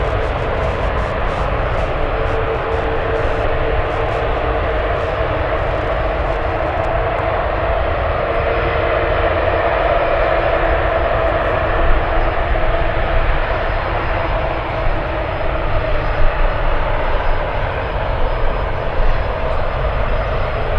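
An Airbus A380 taxis at San Francisco Airport, crossing a runway, its engines producing a steady, loud, broadband jet whine and rumble that holds evenly without a break.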